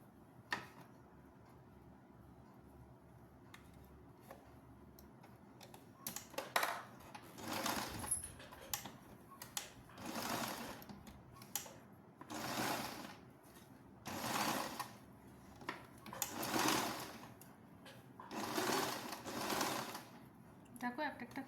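A sewing machine stitching a round-neck, ribbon-tied gathered nightie runs in repeated short bursts with pauses between, faint and close, over quiet room background.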